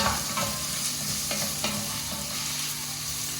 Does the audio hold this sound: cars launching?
no